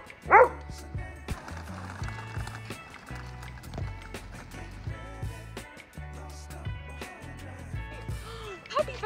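A puppy gives a couple of brief high yips among scuffling, thudding movement and clicks, fairly quiet and close.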